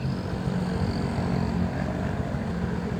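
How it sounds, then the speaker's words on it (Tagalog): A stock Rusi Classic 250i motorcycle engine runs flat out at top speed, a dense, steady roar mixed with rushing wind, loud and close throughout with no breaks. "Ang top speed ko nito sa stock na motor na to, nasa 120."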